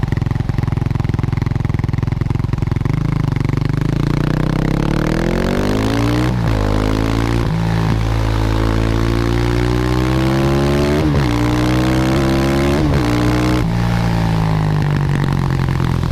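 Husqvarna 510 SMR supermotard from 2010 idling and revving through its stock twin exhausts, a deep single-cylinder thump rising and falling in several sharp throttle blips, loud and close with no talk.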